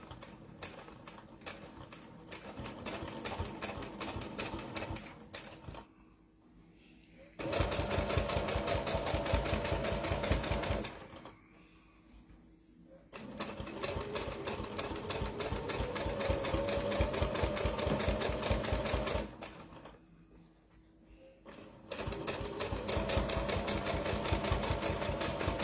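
Sewing machine stitches steadily through thick wadding in several long runs, broken by short pauses, with a dense rapid mechanical chatter and no voices.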